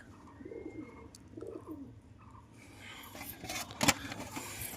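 Pigeons coo in a rooftop loft where young chicks are kept. Several soft, low coos repeat in the first half, then louder fluttering and clattering rise near the end.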